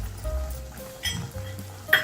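Spices and turmeric sautéing in oil for prawn masala, a soft sizzle under clinks and scrapes of a spoon stirring in the pan, close and moderately quiet.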